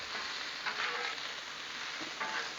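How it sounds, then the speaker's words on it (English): Italian sausage on a Blackstone griddle gives a continuous close, bright sizzle, steady throughout with a couple of faint scrapes mixed in; no voices. "Give it the sausage a good flip."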